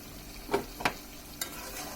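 A spoon stirs a thick egg and eggplant curry in a pan, giving a few faint scrapes and soft clicks over a quiet sizzle.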